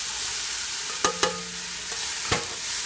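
Portobello mushrooms sauté in a pan with a constant airy sizzle, punctuated by several crisp knocks and taps from a spoon against the pan, and no voices.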